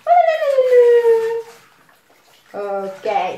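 A child yelps and whimpers in imitation of a little dog at bath time, a long falling whine followed after a pause by a shorter pair of higher yips, close and fairly loud.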